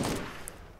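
A gunshot from the video game Borderlands bursts loudly at the start and then fades into a short echoing tail.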